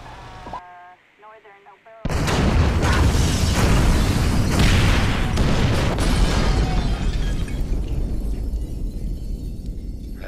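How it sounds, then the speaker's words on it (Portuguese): A C4 charge set off by phone in GTA V bursts into a sudden, loud explosion after a quiet moment, followed by a long, dense roar of blasts and rumbling debris that slowly tapers off. "Usar o celular para detonar o C4."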